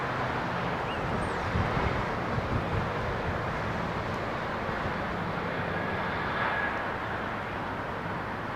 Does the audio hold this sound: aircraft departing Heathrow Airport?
yes